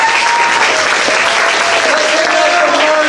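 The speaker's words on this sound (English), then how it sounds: "Let's give these guys a round of applause." A theater audience at an improv comedy sidestage show bursts into loud, dense applause, a continuous wash of clapping held at full strength throughout.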